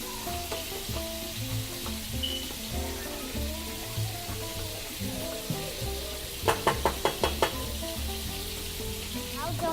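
Mushrooms frying in a pan and being stirred, a steady sizzle with scraping strokes and a quick burst of spatula taps against the pan midway, close and loud, no talking.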